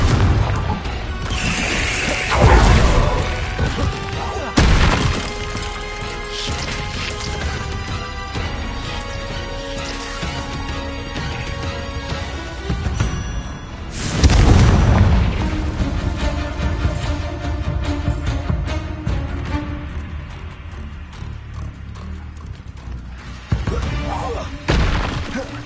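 Explosion spells in the game Hogwarts Legacy go off as loud booming crashes, with two big blasts standing out over continuous game music and combat clatter.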